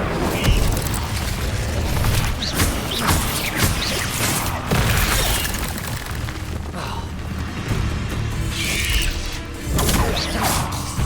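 Spells including the Incendio fire spell being cast in the Hogwarts Legacy game on a laptop, a steady loud wash of whooshing, crackling magic bursts and mechanical clatter, with a voice speaking over it.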